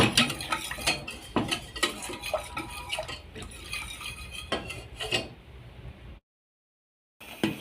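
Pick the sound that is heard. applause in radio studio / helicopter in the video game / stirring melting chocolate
stirring melting chocolate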